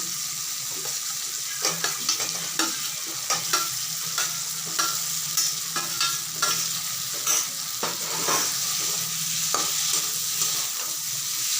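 Potatoes and paneer sizzle in spiced oil in a pan, with a steady frying hiss under repeated scraping stirs that come in a loose, regular rhythm close by.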